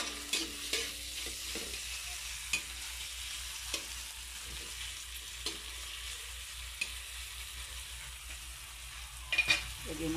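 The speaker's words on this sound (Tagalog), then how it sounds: "Medyo lulutuin natin yung kamatis." Tomatoes fry with a steady sizzle in a pan, broken by sharp scraping clicks as a utensil stirs them every second or so; no voices.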